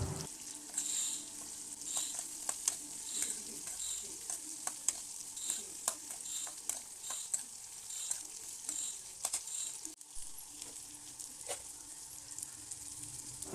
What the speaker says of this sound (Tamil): அப்புறம் உரித்து வச்சுருக்கிற பூண்டு சேர்த்து நான் நல்லா வதக்குறேன்